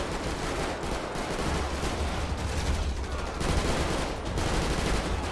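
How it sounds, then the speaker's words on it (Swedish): Dense gunfire and explosions in the GTA video game during a chaotic terror attack scene, a steady rattling barrage of shots with low booming blasts that continues loudly throughout without pause. "Ja, det måste vara skott."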